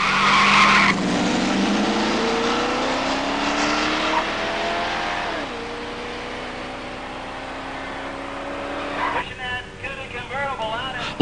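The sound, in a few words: Cuda drag race launch with tire squeal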